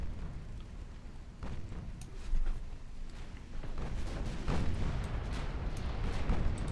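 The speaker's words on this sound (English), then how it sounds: "secondaries, please fire at the cruiser" Battleship secondary guns firing at a cruiser in the naval video game Ultimate Admiral Dreadnoughts, with 8-inch, 5-inch and smaller guns producing a continuous rumble of dull booms and crackling bursts that swells louder toward the end.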